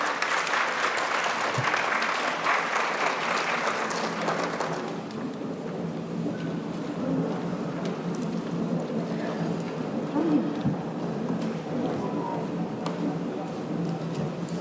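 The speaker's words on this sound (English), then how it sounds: "Can we have a big round of applause" Audience at a Green Fashion India event applauds the arriving guest of honor, a strong burst of clapping in the first few seconds that fades into a quieter room murmur and distant voices.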